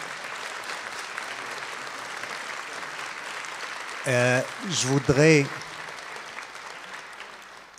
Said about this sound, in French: Je pense que vous êtes d'accord avec moi qu'il mérite quelques applaudissements